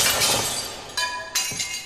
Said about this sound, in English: I like that sound of throwing glass in there. So I just smashed a bunch of glasses and shit in there.